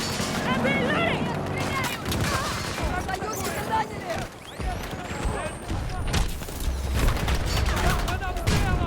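Dense gunfire in a Battlefield 2042 battle: near-continuous rifle bursts, rapid shots and booms layered with shouted voices, loud and busy across the whole stretch.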